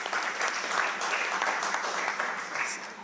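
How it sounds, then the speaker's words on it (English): An audience at a conference applauds in a steady, dense burst of clapping that fades slightly at the end, with no talking over it. "Actually, another round of applause for Mrs. Sandra."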